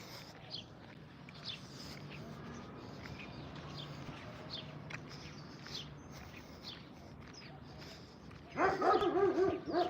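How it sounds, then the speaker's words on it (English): A dog lets out a short burst of loud barks near the end, after a stretch of quiet background ambience. "That dog is literally looking to kill me."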